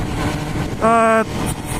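A 2017 BMW S1000 R motorcycle engine rises in a brief, sharp rev with a clear climbing whine, close and loud, with someone talking before and after it.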